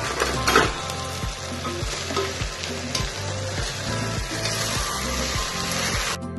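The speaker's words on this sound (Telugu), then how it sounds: "ఒక్కొక్కటిగా ఇలా వెజిటేబుల్స్ అన్నీ వేసేసుకొని ఒకసారి కలుపుకుందాము" Vegetables with onions and tomatoes sizzle loudly in a hot pan for vegetable khichdi, while a spoon scrapes and stirs in a steady rhythm of repeated strokes, close up and with no talking.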